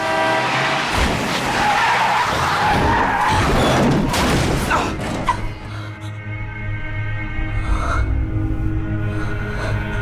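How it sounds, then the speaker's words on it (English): A car skids toward someone in a film scene, with a long loud tire squeal and engine roar. A heavy impact follows, then the sound settles into a lower rumble. "Bella doesn't actually witness anything undeniably supernatural until she almost gets hit by a car"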